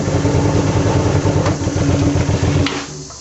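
A Hyosung GV250 motorcycle engine runs steadily and close by in a continuous loud mechanical drone with a low rhythmic throb. It cuts off abruptly near the end as it is put in gear.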